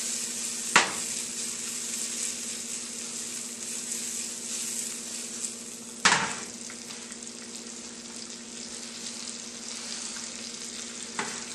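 Shrimp and diced Roma tomatoes fry in a pan for a shrimp scampi, giving a steady close sizzle throughout, broken by a few sharp utensil knocks against the pan as they are stirred.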